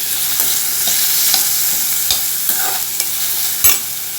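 Onions and tomatoes being sautéed in a pan for curry leaf rice, with a steady soft sizzle broken by repeated scraping stir strokes close up, and no talking.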